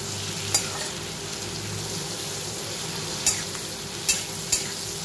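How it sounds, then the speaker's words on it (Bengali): Green chillies fry in hot oil in a pan while a mushroom chicken fry is cooked, giving a steady, close sizzle with a few sharp clicks of a utensil against the pan. "এই যে লঙ্কাগুলো দিয়ে দিলাম। খুব বেশি ভাজবো না।"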